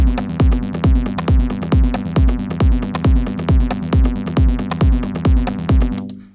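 Hypnotic techno synth bassline chord programmed in Ableton Live, pulsing in a steady, repetitive rhythm of loud, punchy stabs with a deep low end, ending with a short decaying tail.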